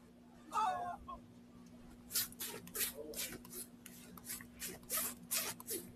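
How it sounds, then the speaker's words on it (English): A clothing zipper is pulled repeatedly in short, crisp rasping strokes at close range, with a faint steady hum underneath and a brief voice-like chirp near the start. "That's me when I learn how to zip my zipper."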